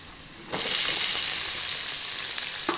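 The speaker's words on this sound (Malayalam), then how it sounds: "ഇത് ഗോൾഡൻ കളറാവണ വരെ നമുക്ക് വഴറ്റാം" Chopped onions dropped into hot oil in a pan for tomato rice burst into a loud, close sizzle that holds steady, with a faint stir or clink near the end.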